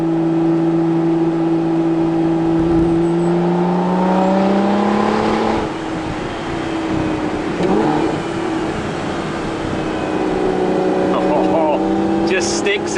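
An Aston Martin V12 Vantage S Roadster engine pulls hard up a greasy, tree-lined hill climb, its loud note rising through the revs, dipping at a gear change, then climbing again near and strong.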